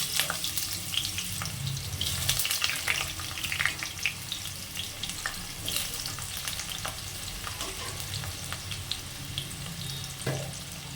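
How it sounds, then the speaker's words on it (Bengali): Potato pieces fry in hot oil with a steady, close sizzle, broken now and then by the scrape and clatter of stirring; no voices. "আলু কটা ভেজে নেব।"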